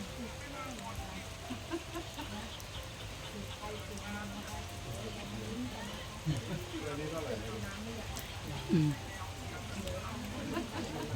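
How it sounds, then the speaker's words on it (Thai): Steady rain patters on a surface near a kitchen, a soft, continuous hiss running throughout while people talk quietly over it. "ฝนตกเนาะ"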